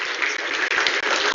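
Audience at a BRICS summit panel claps steadily and loudly for about a second and a half, a dense continuous applause with no voices over it.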